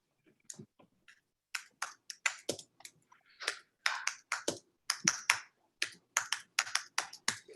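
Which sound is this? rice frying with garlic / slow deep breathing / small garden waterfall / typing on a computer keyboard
typing on a computer keyboard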